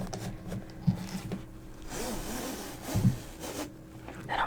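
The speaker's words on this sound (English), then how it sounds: "this is what it sounds like when you lace them" Laces being pulled through the eyelets of thick sneakers make soft scraping, zipper-like rubs, with a couple of sharper tugs, close and quiet with no talking.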